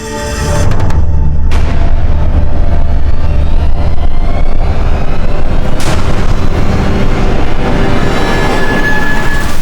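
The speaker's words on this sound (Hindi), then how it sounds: "सर उस तरफ से गोली चली थी।" Loud, sustained gunfire and booming blasts from a forest crime scene dominate the scene, with a dense, continuous barrage and a couple of sharper cracks standing out.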